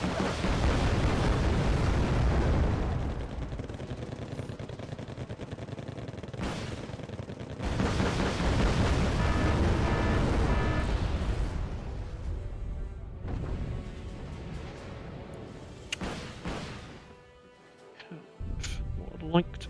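Loud explosions and heavy gunfire in the real-time strategy war game Wargame: Red Dragon, a dense rumbling barrage filling most of the stretch with brief lulls, while voices talk over it.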